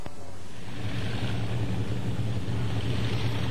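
A Lockheed Constellation airliner, powered by four Wright 18-cylinder piston engines of 2,500 horsepower each, gives off a continuous loud droning roar that holds steady throughout.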